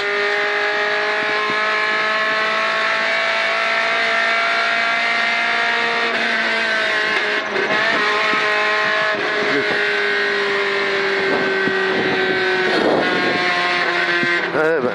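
Onboard a rally car on a special stage of the Rallye de Wallonie, the engine and exhaust roar loudly throughout, with revs climbing and falling through gear changes.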